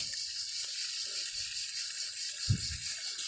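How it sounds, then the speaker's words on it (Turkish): Water runs steadily through newly connected pipes as a continuous hiss, with a low gurgle or thump near the end. "Bakın burada suyumuz akıyor."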